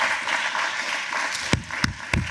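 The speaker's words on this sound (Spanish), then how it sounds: "Dele ese aplauso fuerte al Señor." Church congregation clapping for God during a worship service, a broad continuous patter of many hands with a few sharper accented claps standing out near the end.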